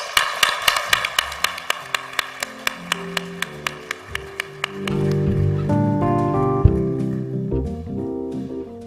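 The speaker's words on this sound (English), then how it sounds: "Let's all give them one more round of applause." Graduates are applauded at the University of Rwanda graduation ceremony in Kigali with crisp, evenly spaced claps in a steady beat for several seconds, then music with sustained tones takes over.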